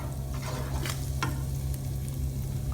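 Hot peppers frying and being stirred in a pan, a steady close sizzle with a few scraping stir strokes throughout, no talking.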